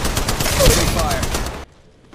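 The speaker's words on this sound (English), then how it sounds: "Opening fire." Gunfire from the mobile battle royale game Apex Legends Mobile: a dense, continuous burst of rapid shots and game effects lasting about a second and a half, then cutting off abruptly to near silence.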